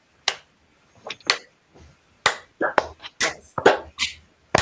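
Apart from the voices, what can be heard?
group clapping in rhythm as warm-up exercise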